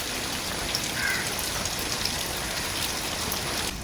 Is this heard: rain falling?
yes